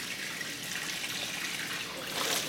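Tap water runs steadily into a bowl of strawberries for rinsing, a soft continuous hiss and splash at close range with no voices.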